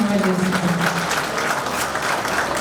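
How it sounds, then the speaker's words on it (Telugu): An audience at a public event breaks into sustained applause, a dense steady clatter of many hands clapping that runs throughout, with a voice briefly heard at the start. "అందరూ గట్టిగా చప్పట్లు కొట్టాల్సిన"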